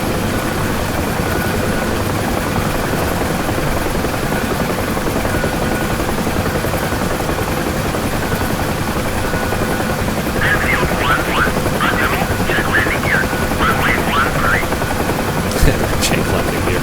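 A UH-1 Huey helicopter in the DCS flight simulator gives off a loud, steady rotor and turbine drone that runs unbroken from start to finish, with faint chirping blips near the end.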